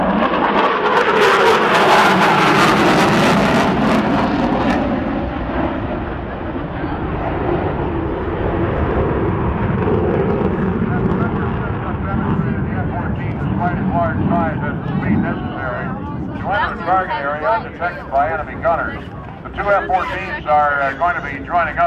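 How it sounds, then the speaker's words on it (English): Navy F-14 fighter jets make a low pass at the NAS Oceana air show, a loud, close broadband roar at the start that fades to a sustained rumble while an announcer talks over it in the second half. "this is the F-14 surprise attack"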